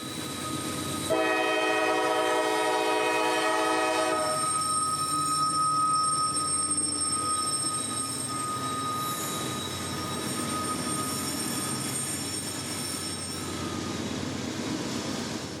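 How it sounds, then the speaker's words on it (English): CSX freight trains at a siding in North Georgia, with a loud sustained horn blast lasting a few seconds, then a steady rumble and squeal of grain train G396 rolling slowly through the siding. "northbound grain train G396 snakes into the hole here"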